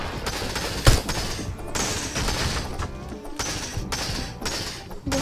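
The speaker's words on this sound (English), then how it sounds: "My guys are shooting all day, bro." Gunfire rattles through a Fortnite match: rapid bursts and volleys of shots fill the stretch, with one sharp, loud blast near the start and further clusters of shots after it.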